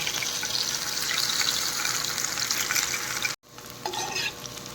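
Battered cauliflower frying in hot oil for honey chilli cauliflower, a loud, steady close sizzle with stirring, briefly cutting out before resuming slightly softer, with no talk.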